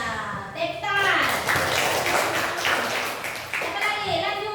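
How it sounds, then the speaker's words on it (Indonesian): A class of children claps hands together in a burst of uneven, overlapping claps, with young voices talking and calling out before and after. "Iya, tepuk tangan"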